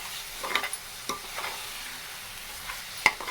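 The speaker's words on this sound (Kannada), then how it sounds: "ನೋಡಿ ಚೆನ್ನಾಗಿ ಕಲಿಸ್ಕೋಬೇಕು" A spoon stirs and mixes raw mango katta meeta in a pan, giving soft scraping strokes with a faint sizzle underneath, close and fairly quiet, with a sharper clink near the end and no talk.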